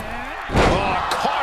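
A heavy slam as a wrestler hits the mat in a wrestling video game, one loud thud with a short rumbling tail, under excited commentary from a voice in the background.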